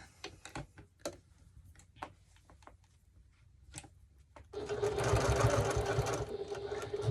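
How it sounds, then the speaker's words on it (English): Scattered clicks and taps of handling lead into a sewing machine stitching the straps of a 1941-style gasmask bag together, a burst of steady rapid needle rattle during the last few seconds. "stitch both straps together"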